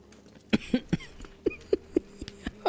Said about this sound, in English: Coughing makes it hurt.